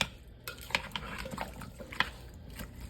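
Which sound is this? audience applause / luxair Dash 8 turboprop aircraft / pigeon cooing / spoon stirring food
spoon stirring food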